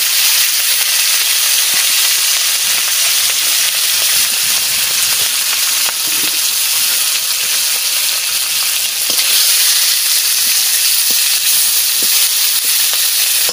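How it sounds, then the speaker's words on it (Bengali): Fish frying in hot oil in a home kitchen, a steady dense sizzle and crackle that runs loud and close throughout with no talking. "মাছ ভাজা হয়ে গেছে,"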